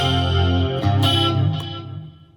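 Clean electric guitar tone with chorus through a Line 6 Helix using the Friedman BE clean setting, a few ringing strummed chords that sustain and fade out over a couple of seconds, played alone.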